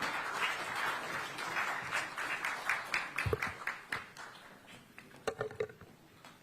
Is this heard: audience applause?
yes